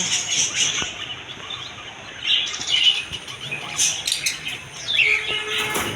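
Caged pet birds at an outdoor bird market, including cockatiels, budgerigars and finches, chirp and tweet in bursts, with scattered high calls and wing flutters over a busy background, no talk.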